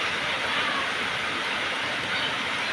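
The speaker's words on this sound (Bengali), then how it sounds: "দেখো দেখো কত জোরে বৃষ্টি এসেছে" Heavy rain pours down outdoors beside a garden pond, a dense, even hiss that stays constant and fairly loud throughout with no pauses.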